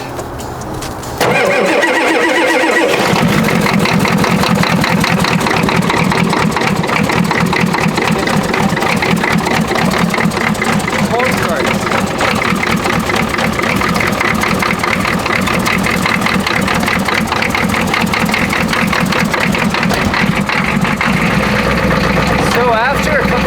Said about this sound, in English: So this is how you hotwire an old Ford.